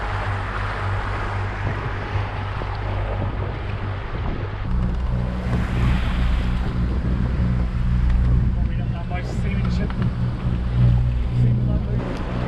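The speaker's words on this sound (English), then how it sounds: "just taking the sails down so it's nice and easy to run both engines." Steady low engine drone from a sailing catamaran motoring on both engines with sails down into a bay in the Saronic Gulf near Vari, with wind and water wash over it and the engine note shifting slightly partway through.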